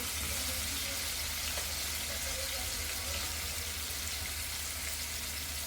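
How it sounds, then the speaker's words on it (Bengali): Pieces of coral fish belly frying in hot oil, giving a dense, loud, continuous sizzle close by, with occasional faint scrapes of stirring beneath the steady crackle. "এখন এগুলোকে আমি লেড়ে লাল লাল করে ভেজে দেব"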